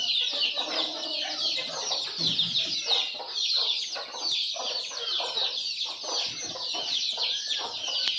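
Free-range village chickens cluck and chatter continuously close by on a poultry farm, overlapping calls forming a busy, steady flock sound with no talk over it.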